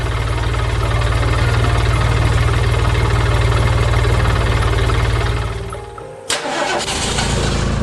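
An animated red dump truck's engine cranks and rumbles loudly at a steady idle, dips briefly, then catches again with a sharp burst before running on, with no voices.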